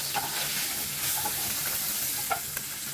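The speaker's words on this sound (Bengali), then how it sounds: "দিয়ে এখন আমি বাকি মাছগুলো ভেজে নেব।" Pabda fish frying in hot oil in a pan, a steady close sizzle with scattered crackles and brief spits running throughout, with no talking.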